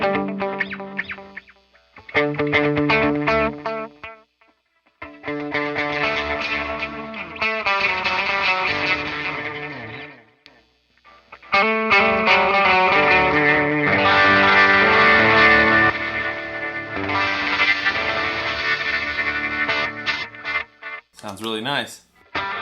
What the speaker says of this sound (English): There's our delay.